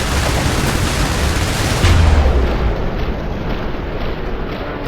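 Airstrike explosions in the mobile defense game IS Defense blend into one loud, continuous roar of blasts and rumble that fills the whole stretch, with a brief heavier burst near the middle.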